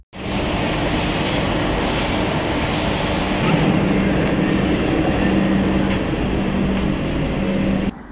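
Howrah to Puri Vande Bharat Express at a station platform, a loud continuous rumble and hum of the train with a steady low drone, running the whole time with no talk.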